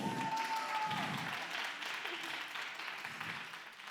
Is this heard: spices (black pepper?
no